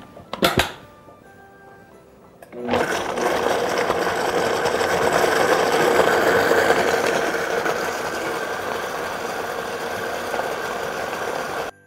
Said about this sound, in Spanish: Y vamos a licuar.